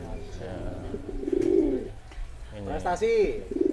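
Doves coo repeatedly nearby, low rounded calls in short phrases, with a few brighter chirps mixed in.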